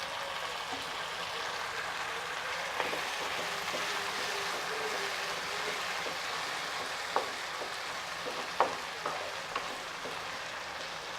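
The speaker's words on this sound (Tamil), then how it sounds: "இப்போ இதெல்லாம் சேர்த்து நல்லா வதங்கணும்" Chopped country tomatoes frying with small onions and green chillies in a pan for egg thokku, a soft continuous sizzle with a few sharp spatula clicks and scrapes near the end.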